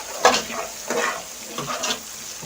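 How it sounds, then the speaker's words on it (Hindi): A spice mix frying in a pan for Aloo Matar Pulao, stirred with a few rhythmic scraping strokes over a soft, steady sizzle, close and alone. "मसाले को 2 मिनट अच्छे से भून लेंगे।"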